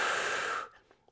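One sharp, forceful breath, an inhale or exhale during a Pilates mat exercise, is heard close up and fades quickly into quiet.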